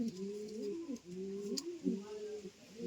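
A pair of yellow Sirazi pigeons coo in repeated soft, rolling phrases, close by and fairly quiet, with faint background noise.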